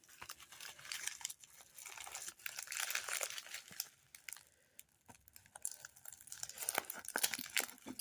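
Packaging being unwrapped by hand, with steady crinkling and crunching of plastic or paper wrap that comes in bursts and pauses, close and fairly quiet, with no talk.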